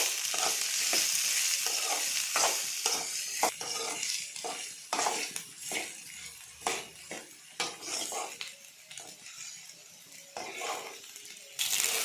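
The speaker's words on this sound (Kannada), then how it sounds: "ಹಾಗೆ ಈರುಳ್ಳಿ. ಸ್ವಲ್ಪ ಫ್ರೈ ಮಾಡ್ಕೊಳ್ಳೋಣ." Onions frying and being stirred in a pan with chillies, for a village-style avarekalu bassaru, a steady loud sizzle broken by repeated scraping strokes of a spoon against the pan.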